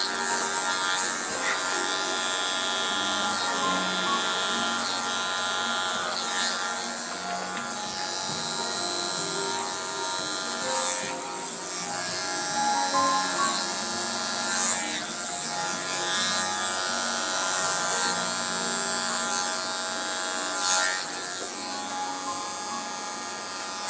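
Hair clippers buzz continuously during a freehand barbering haircut, a close, steady electric hum with slight wavering as the blade moves through hair, no talking over it.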